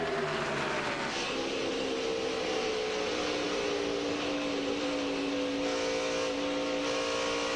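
NASCAR race cars, including Greg Biffle's Grainger Ford, roar around the track at the 2001 Mr. Goodcents 300; a loud continuous engine wail with shifting pitch as cars sweep past, broadcast-style.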